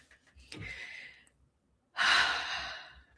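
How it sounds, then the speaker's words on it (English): A person takes a deep breath near the mic, a soft inhale followed after a brief pause by a longer, louder breathy exhale, with no words spoken. "Take a deep breath in and out like I just did there."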